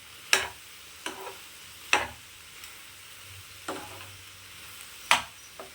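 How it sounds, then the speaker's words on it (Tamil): Tomatoes cook down in a pan for paruppu thuvayal with tamarind, heard as a faint low sizzle punctuated by five or six sharp, separate stirring clicks and scrapes, quiet and close, with no one speaking. "தக்காளி நல்லா வதங்கட்டும்."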